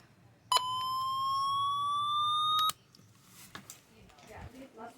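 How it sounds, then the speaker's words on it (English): A weather radio siren test alert from an old Radio Shack Pro 46 weather radio with funky batteries: one loud steady electronic tone, slightly rising in pitch, sounds alone for about two seconds and then cuts off abruptly into quiet room noise. "let's do a siren test."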